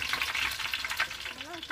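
Food fries in hot oil in a pan for a Thrissur-style Kerala beef biryani, a close, continuous crackling sizzle with a brief faint voice near the end.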